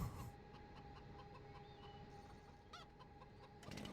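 Chickens cluck in the Farming Simulator 15 video game, a steady low-level flock murmur with a few brief rising calls, faint and without speech.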